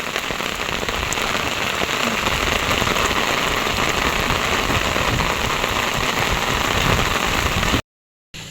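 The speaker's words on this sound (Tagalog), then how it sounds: "Ayaw po nalakas na naman po ang ulan." Heavy rain pours down beside a street in a loud, constant hiss close by, briefly cutting out near the end.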